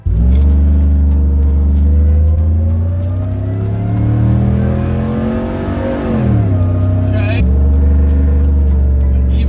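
A supercharged Chevrolet Suburban engine revving at wide open throttle, a loud close sustained roar climbing in pitch, briefly dipping as it shifts, then pulling hard again.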